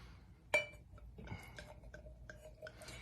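Ayala Brut Rosé champagne is poured into a glass, a sharp clink of bottle against glass followed by soft fizzing and small trickling clinks, close and fairly quiet.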